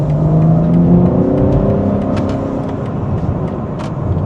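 A BMW G80 M3 Competition accelerates hard to overtake, its engine note rising and sweeping upward in pitch as it pulls, heard loud and close from inside the car without talk.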